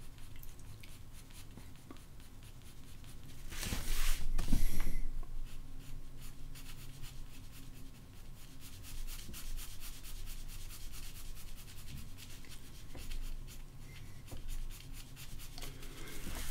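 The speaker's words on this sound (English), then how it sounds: "I just started drawing something so you could see." Pencil drawing on paper for a grid-method layout: close, quiet, continuous scratchy strokes with soft rubbing texture, and a brief louder burst of scribbling partway through.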